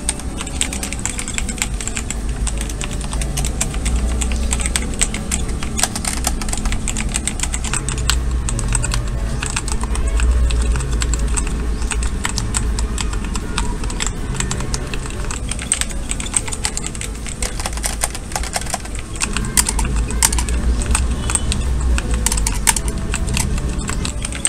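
Steady, close typing on a Flydigi Scorpion D1 hot-swappable mechanical keyboard modded with tape and polyfill, a dense run of muted, thocky keystrokes with no talking.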